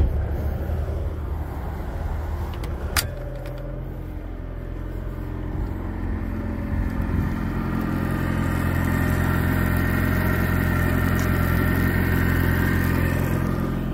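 A 2000 Honda 130 hp inline four-cylinder EFI four-stroke outboard motor runs steadily close by, a loud continuous engine drone with a brief metallic clunk early on as it shifts into reverse, then its tone rises slightly and holds.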